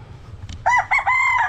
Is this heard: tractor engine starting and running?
no